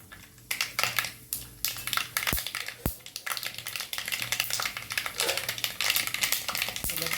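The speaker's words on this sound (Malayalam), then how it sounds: "സൂപ്പറായിട്ട് കടുക് പൊട്ടിയിട്ടുണ്ട്." Mustard seeds pop and crackle in hot oil in a home kitchen while cooking a drumstick thoran, a dense run of sharp, irregular close crackles and spits that continue without pause.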